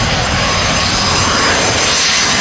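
A loud, close American airliner jet roars steadily at LAX, a continuous broadband engine rush filling the whole moment with no voices.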